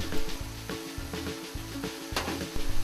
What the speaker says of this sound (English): I'm going to fry this over medium-high heat just until it begins to turn brown